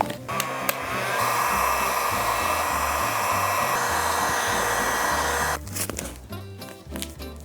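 A heat gun blows steadily while heat-bending a pool noodle into a hand shape, a loud whooshing hum that runs for about four seconds and then cuts off to quieter handling noises.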